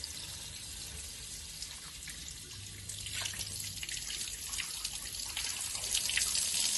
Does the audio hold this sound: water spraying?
yes